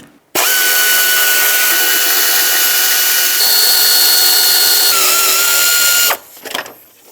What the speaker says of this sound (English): And now with a 10mm, let's remove the 4 bolts that hold this on.